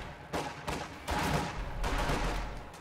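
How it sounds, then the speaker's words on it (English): MG42 machine gun fire in a Company of Heroes-style video game, several loud sustained bursts of rapid shots separated by brief gaps, set against a busy battlefield. "MG42 arrives in the nick of time to suppress the squad"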